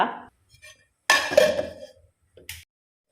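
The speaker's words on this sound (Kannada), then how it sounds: "ಈಗ ಮುಚ್ಚಳ ಮುಚ್ಚಿಡುವ" A metal lid set down on a cooking pot of instant sambar, a couple of sharp clinks and a brief clatter close by, separated by quiet gaps.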